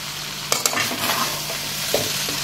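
Mexican rice stirred in a pan over a medium flame: a loud, close sizzle with a few sharp scraping strokes of the spoon, sounding alone without speech.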